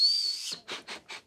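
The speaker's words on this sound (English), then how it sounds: "There's a whistle at the back of the shoe." Whistle built into the back of a shoe blown once in a long shrill tone, followed by three short, soft breathy puffs, close and quiet with no talking.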